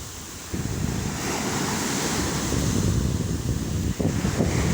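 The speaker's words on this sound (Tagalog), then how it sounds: "Maalon na guys kasi high tide na." Rough high-tide surf breaks steadily along a palm-lined beach, a dense, continuous roar of water that swells slightly louder toward the end, with wind noise hitting the microphone.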